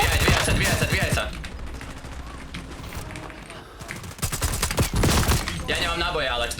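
Rapid bursts of automatic gunfire in a shooter video game, crackling volleys that come and go in waves, loud and close, with players' voices talking over parts of it.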